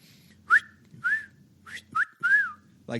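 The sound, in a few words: whistled imitation of a teal duck call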